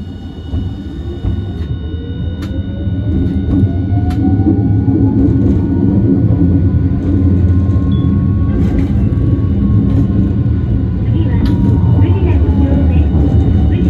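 A Hiroshima Electric Railway 1000-series PICCOLO tram pulls away and runs, heard from inside. A low rumbling roll grows louder over the first few seconds and then holds steady, with a rising motor whine and occasional sharp clicks and rattles.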